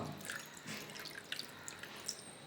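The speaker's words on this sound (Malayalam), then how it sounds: "ഇനി ഇതിലേക്ക് കുറച്ച് വെള്ളം ഒഴിച്ചു കൊടുക്കാം" A little water poured into a sardine and masala marinade, a faint, soft trickle broken by small drips.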